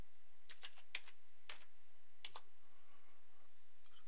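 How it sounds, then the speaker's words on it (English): Quick typing on a computer keyboard in an office software search field, a handful of crisp key clicks in a short uneven run, close and quiet with no speech. "so type in company in the search field"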